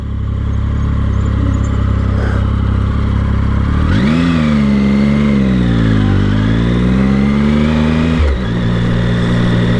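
A Triumph Speed Triple motorcycle engine revs loudly up close, its idle rising into a strong sweeping rev that climbs, dips and holds before dropping back to a steady rumble.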